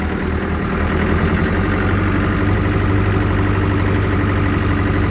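Tractor engine running steadily on a drive home after being stuck in mud, a loud, continuous low rumble with a rapid throbbing pulse, close and unbroken, with no voices.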